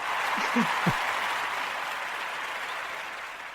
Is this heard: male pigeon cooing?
no